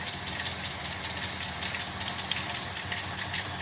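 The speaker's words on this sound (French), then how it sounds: "On redémarre le moteur et on observe bien que le régime du moteur a changé et qu'il nous donne bien l'impression qu'il fonctionne à 4 cylindres." Combustion engine restarted after a faulty spark plug was fixed, now running on all four cylinders: a steady, even idle drone that holds constant throughout, with no voices.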